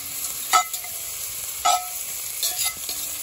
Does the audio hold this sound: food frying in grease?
yes